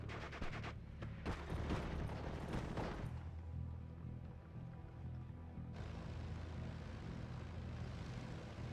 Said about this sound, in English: the same Hurricane now moving forward, coming from another strafing run, trying to hit these Fallschirmjägers